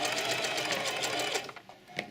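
A sewing machine stitches a small drawstring bag, its steady, close whirring running for over a second before it stops and leaves a brief mechanical click.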